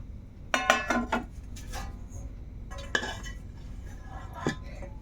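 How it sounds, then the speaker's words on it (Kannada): Metal bowls and utensils clink and clatter in short bursts while a bowl is oiled for making kallappam in a home kitchen, with a sharp knock near the end and no talking. "ಈಗ ಬಟ್ಟಲಿಗೆ ಎಣ್ಣೆ ಹಾಕ್ತಾ ಇದ್ದೇನೆ. ಎಣ್ಣೆ ಸವರಿ"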